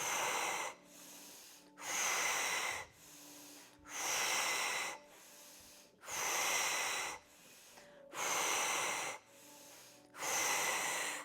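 Forceful rhythmic breaths pulse through the nose during a fast yoga breathing exercise, alternating hard inhales and exhales in a steady, even cycle, close and loud with short pauses between.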